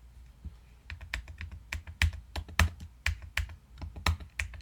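Computer keys clatter in an irregular run of sharp clicks, close and distinct, some presses louder like repeated arrow-key taps, with no one speaking.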